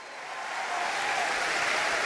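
A church congregation applauds during a pastor's sermon in Costa Rica, a dense, steady wash of clapping that swells slightly over two seconds.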